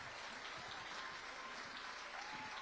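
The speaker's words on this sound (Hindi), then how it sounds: "और ज्यादा तालियां चाहिए हमें।" Steady audience applause at the Sahitya Aaj Tak literary event greeting actor Kabir Bedi, an even, faint wash of clapping that holds at the same level throughout.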